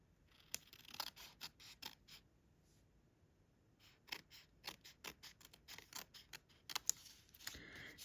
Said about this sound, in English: So I'm just going to trim off the sides here.